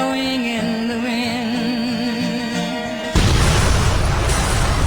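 A film explosion bursts suddenly into a loud, broad roar after about three seconds of sustained tonal music, then the blast rumbles on steadily to the end.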